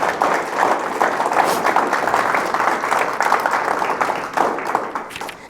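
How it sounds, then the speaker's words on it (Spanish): A church congregation claps in a dense, continuous burst of applause, fairly loud and steady with no voices standing out. "Dele un aplauso al Rey de Reyes y Señores de Señores"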